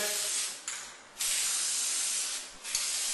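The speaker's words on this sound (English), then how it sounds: "So what you're going to do is take the spray and spray a good" Lubricant spray aimed at PVC pipe patio furniture: two long, loud hissing bursts from an aerosol can, close up, with a short pause between them.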